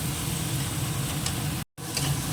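Onions fry in a pan with a continuous close sizzle and low rumble throughout, broken by a brief gap of silence near the end.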